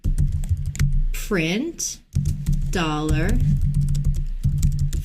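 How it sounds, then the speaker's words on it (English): A computer keyboard clatters with quick, close keystrokes while PHP code is typed, running under a voice talking throughout. "we can just select all that text and then start typing our opening PHP tags"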